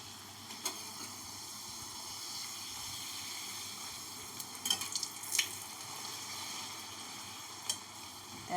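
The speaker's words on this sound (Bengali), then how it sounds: "এখন এই 13টা লুচি ভাজবো" Luchi, thin rolled puffed flatbreads, frying in hot oil, a faint steady sizzle with a few soft pops and bubbling bursts scattered through, heard alone with no talk.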